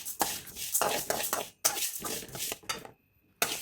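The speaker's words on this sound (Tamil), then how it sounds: "இப்போது பாசிப்பருப்பு 1/4 கப் சேர்த்து அதையும் நல்லா வறுத்து எடுத்துக்கலாம்" A utensil scrapes and clinks in a pan as moong dal is stirred while dry roasting over low flame without oil, in short rhythmic bursts with a brief pause near the end.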